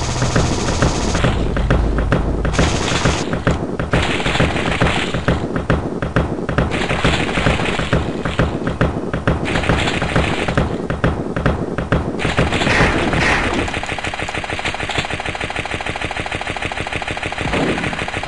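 Rapid machine gun fire from the video game Balloon In A Wasteland, loud and sustained bursts of repeated shots over about twelve seconds, then giving way to a steadier droning game sound.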